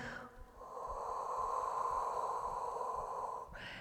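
A slow, steady exhalation during a gentle Pilates routine, a close breathy hiss lasting about three seconds before trailing off.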